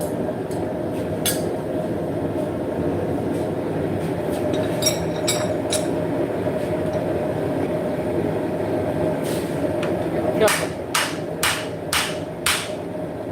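A rawhide mallet strikes a tomahawk handle to seat it, ending in a series of about four sharp, evenly spaced smacks. Before them, a steady workshop rumble carries scattered lighter knocks, all close by.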